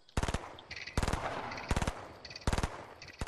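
Fortnite gunfire rings out in four quick loud bursts of rapid repeated shots, each burst followed by a brief pause and a faint higher echo or ping.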